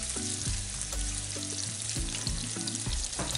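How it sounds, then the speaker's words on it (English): Turkey stir-fries with parsley, garlic and onions in a pan, a continuous loud sizzle punctuated by repeated scraping and knocking strokes of a utensil. "I stir fry like so"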